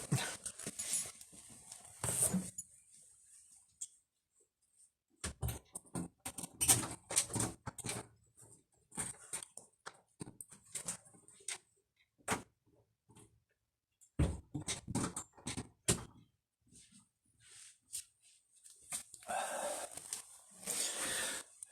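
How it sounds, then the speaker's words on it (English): A pet dog indoors wanting to be let out makes bursts of sound, likely whines or scratching, that come and go in short intermittent clusters over a quiet room, close to the microphone. "So my dog wants out again."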